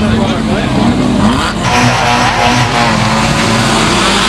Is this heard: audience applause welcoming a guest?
no